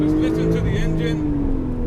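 A Porsche sports car engine droning steadily and loud from inside the car on the Yas Marina race circuit, pitch slowly falling as it slows for a bridge, with engine tone filling the whole stretch.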